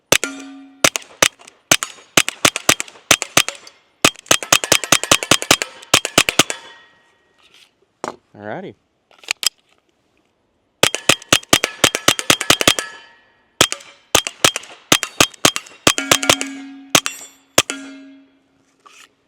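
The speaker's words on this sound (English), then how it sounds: "Let's fire our last rounds through the 22 from Smith & Wesson." Smith & Wesson M&P 22X pistol firing .22 bulk rounds at a range, loud sharp reports in rapid bursts and strings with short pauses between, each shot ringing with a metallic clang; one brief spoken word.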